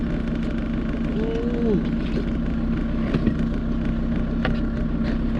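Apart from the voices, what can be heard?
campervan engine idling in the Sahara Desert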